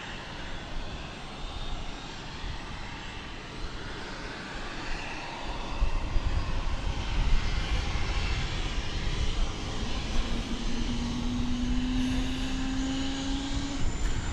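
A passenger airplane on approach at DFW Airport roars in from a distance, its engine rumble building louder about halfway through and holding steady with a rising whine, and no one talks.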